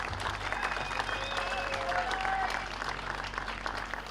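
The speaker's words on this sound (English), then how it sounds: "Give your reigning Bassmaster Classic champion a big round of applause." A crowd at a bass fishing weigh-in applauds the reigning Bassmaster Classic champion, sustained clapping at moderate distance with a low hum and faint tones beneath, continuing evenly throughout.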